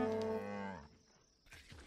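A single cow in the survival video game Atlas gives one loud, drawn-out moo that falls off after about a second, followed by brief quiet and a faint trailing sound.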